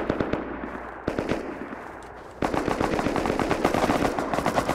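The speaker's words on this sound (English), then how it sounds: "There's a mini gun." Rapid sustained minigun fire in the video game Rust, a dense roaring stream of shots that pauses briefly and then resumes louder and steadier, with sharp cracks mixed through it.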